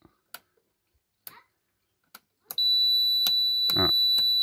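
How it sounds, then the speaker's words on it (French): A camper van's battery protect unit sets off a steady, continuous electronic alarm beep that starts abruptly and holds loud and close, after a few scattered clicks and knocks. "c'est le battery protect qui doit se mettre en alarme"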